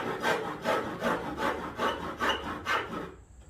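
Rhythmic back-and-forth rasping of a saw cutting through a fiberglass hood of a 1955 Wheel Horse Senior garden tractor, about eight close, even strokes, then it stops.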